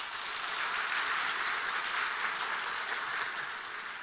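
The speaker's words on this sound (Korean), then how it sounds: "우리 박수 한번 하십시다." Congregation applause fills a church during a Sunday worship service, a steady dense wash of many hands clapping at a constant loud level throughout, with no talking over it.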